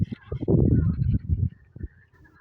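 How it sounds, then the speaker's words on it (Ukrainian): A cluster of low, throaty croaks and honking calls overlaps in a brief, busy chorus, then thins to a few scattered calls and quiet. "Ну, хор я вже сказала, жаб'ячі вокали, як вони кричать."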